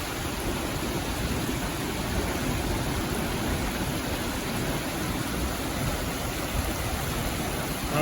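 A natural waterfall pours in a constant, dense, broadband rush that stays steady and close, with no voices or other sounds.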